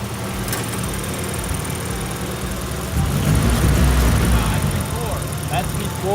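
A car engine with a single cam idles unevenly at first and then rises into a louder, rougher rev partway through, while people talk nearby.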